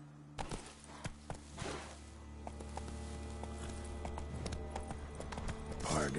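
Roach the horse's hooves clop rhythmically in a video game, fairly quiet, with steady hoofbeats over soft background music.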